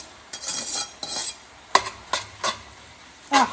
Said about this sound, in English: let me transfer this wilted spinach in here